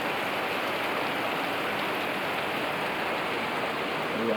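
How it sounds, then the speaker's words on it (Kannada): Heavy rain pours down on a Bangalore street with water running along it, a steady dense hiss of downpour and flowing water, even and unbroken, with no voices. "10 ನಿಮಿಷ ಮಳೆಗೆ ಇಷ್ಟು ಕಥೆ ಆಗೈತೆ ನೋಡ್ರಿ"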